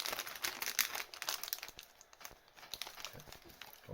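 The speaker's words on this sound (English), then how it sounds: "we'll just open the bag up with a pair of scissors" A sealed plastic bag from an Airfix 1/76 scale model kit being opened with scissors, close, faint crinkling and rustling of thin plastic with small snips and crackles throughout.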